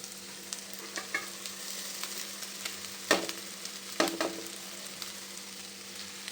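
Cooked rice is stir-fried into a beaten egg mixture in a pan, giving a soft, steady sizzle broken by light scraping strokes of a spatula. Two clearer clacks stand out near the middle, and the cooking stays fairly quiet with no voices.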